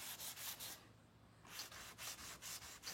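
Sandpaper lightly rubbing over a black-painted surface to knock back the shine, making a series of soft, rhythmic rasping strokes that come close and quiet, with a short pause in the middle.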